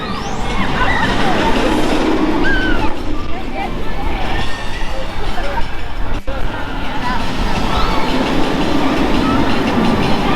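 A roller coaster train rumbles and clatters past at length, wheels rattling on track, while a crowd's chatter and voices carry underneath, at Alton Towers.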